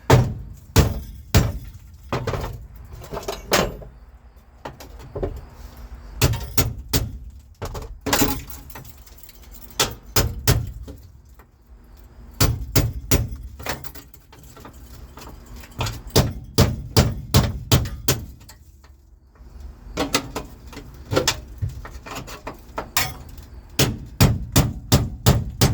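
Steel chisels hammered against the rusted floor pan of a 1974 Chevrolet Nova, loud sharp metallic clangs in rapid bursts of strikes separated by brief pauses, close and with no talking.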